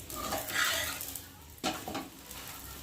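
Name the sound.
frying flour roti in oil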